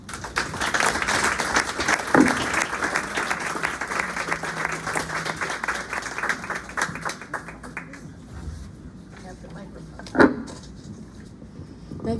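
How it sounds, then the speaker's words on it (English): An audience at a bookstore poetry reading applauding after a poem, a dense sustained patter of clapping that thins out toward the end, with a couple of louder knocks. "Let's hear a round of applause for really 3 terrific poets today."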